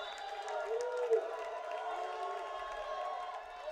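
Women's college volleyball crowd at match point, SPU against Western Washington, roaring and cheering in a sustained, somewhat distant swell of voices.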